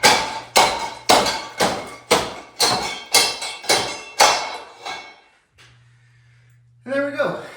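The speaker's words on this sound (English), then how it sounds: "We put some rocks in, and it works just kind of like a stamp mill." About ten heavy, rhythmic metallic pounding strikes of a steel bolt crushing rock like a stamp mill, evenly spaced and loud, followed by a brief pause and a short voice.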